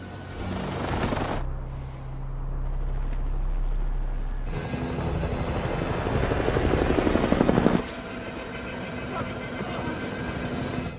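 A helicopter in the film Extraction (2023) roars with a steady low rotor drone and engine whine, loud and sustained throughout, with scene music and sound effects layered over it.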